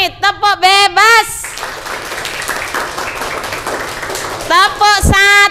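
A group of students at an orientation session break into free-style clapping, a dense burst of applause between stretches of a loud voice leading the claps.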